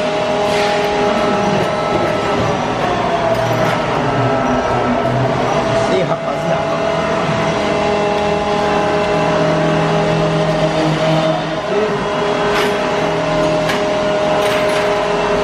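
A motorcycle fitted with an aggressive aftermarket exhaust for wheelie riding runs close by, its engine droning steadily with repeated throttle blips and revs, while people talk over it.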